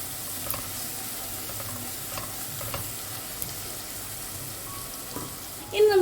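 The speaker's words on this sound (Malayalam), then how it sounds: "നമുക്കൊന്ന് അതിൻ്റെ ഒരു പച്ചമണം മാറുന്നത് വരെ ഒന്ന് വാട്ടി കൊടുക്കാം" Coriander powder and garam masala sautéing in a pan, a soft steady sizzle with faint stirring scrapes throughout, close but quiet, ending with a brief louder clatter.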